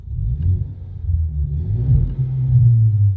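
A Ford Maverick with a custom exhaust taken to full throttle, heard from inside the closed cab: a deep, steady rumble that swells and holds loud for a few seconds.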